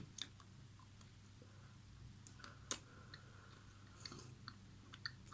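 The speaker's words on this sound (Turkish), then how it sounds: "tam ortasından ısırmışım" A pistachio truffle is bitten and chewed close to the microphone, giving faint soft crunches and wet squishy clicks over quiet background hiss, with no speech.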